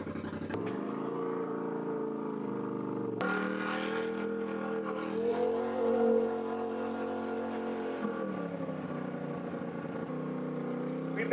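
A RZR side-by-side engine fitted with a Honda Fit body drones steadily on a test drive, with a rising rev around midway and constant close engine hum throughout.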